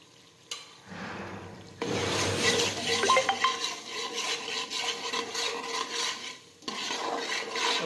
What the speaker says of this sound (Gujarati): બધા મસાલા છે તે મિક્સ કરી દઈશું